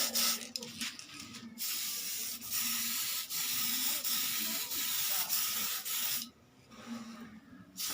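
Aerosol can of Tamiya clear coat spraying a final coat onto a model car body, a steady broad hiss with short pauses between passes, close and continuous.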